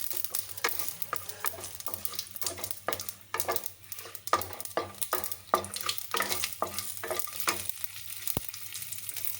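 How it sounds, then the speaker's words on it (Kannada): Dried red chillies frying in tempering oil with mustard seeds, a close crackling sizzle with repeated quick scraping and stirring strokes against the pan. "ಒಣಮೆಣಸಿನ್ಕಾಯಿ ಒಗ್ಗರಣೆಗೆ ಹಾಕೋಬೇಕು"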